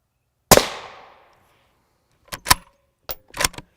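An M855 rifle round fired from a 22-inch barrel at silicon carbide body armor cracks once, loud and close, with a decaying echo, followed by a few sharp metallic clinks and clatters.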